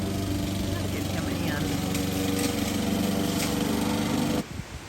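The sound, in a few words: lawn mower running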